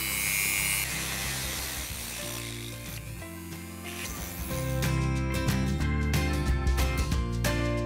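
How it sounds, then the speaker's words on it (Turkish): A screwdriver forcing open a diecast Hot Wheels Ferrari Testarossa model car, close scraping and grinding metal-on-metal with clicks and a sharper burst of rapid ticking toward the end, no speech. "Sonra yine tornavidayla zorlamaya devam edeceğiz."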